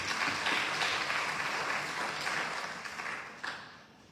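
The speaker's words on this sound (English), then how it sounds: "let's give one more round of applause for all the candidates." Audience applause for the candidates at a school board and city candidate forum in Liberty Hill, a moderate crowd clapping steadily and then gradually thinning out, with a few louder claps near the end.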